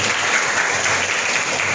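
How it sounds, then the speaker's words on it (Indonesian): A class of schoolchildren claps together in a steady burst of dense applause, loud and close, lasting the whole short moment without speech. "Tepuk tangan untuk kalian semua."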